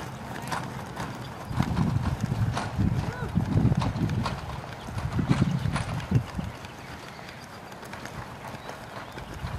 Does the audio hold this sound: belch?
no